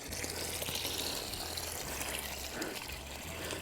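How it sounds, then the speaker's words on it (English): Water pours steadily from siphon pipes draining a backyard swimming pool, a continuous close rushing gush with a low rumbling flow that holds level throughout, no voices present. "Let me show you what she is draining out real nice and fast."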